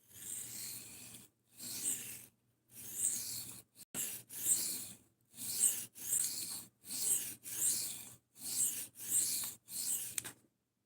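A knife is sharpened on a 600 grit Atoma diamond plate in about nine evenly spaced, close, gritty rasping strokes. Each stroke is separated by brief silence, with no talk.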